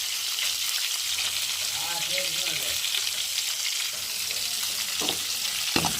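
Curry leaves frying in hot oil in a pan, a loud continuous sizzle throughout with faint stirring scrapes and a brief clatter near the end.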